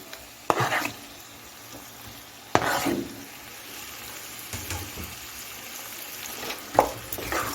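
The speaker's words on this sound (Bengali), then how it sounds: "এখন আমি নেড়ে চেড়ে দশ মিনিট রান্না করে নিচ্ছি" Eggplant frying in a pan while being stirred, with scraping stir strokes near 0.5, 2.6 and 6.8 seconds over a steady background sizzle, close and fairly loud, with no talking.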